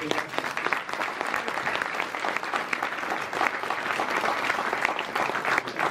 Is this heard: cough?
no